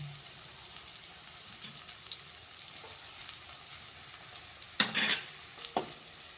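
Onions fry in oil in a pan, a faint, steady sizzle with scattered stirring clicks, then a short loud burst of spattering near the end.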